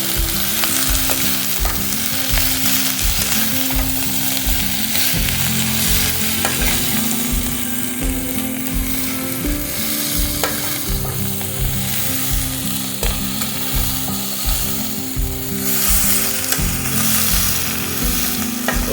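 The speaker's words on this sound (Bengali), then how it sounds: "এবার পুঁই মিঠুলিগুলো দিয়ে দেবো। দিয়ে একটু নাড়িয়ে চাড়িয়ে দেবো।" Malabar spinach seeds (with prawn, for a chachchari curry) stirred in a pan as they fry, giving a steady loud sizzle broken by rhythmic scraping strokes of the spatula throughout, with no talking.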